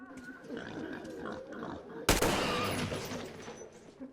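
Pigs grunt and oink in the video game Metro Exodus amid game ambience, then a sudden loud gunshot-like blast cuts in and leaves a noisy rumbling tail.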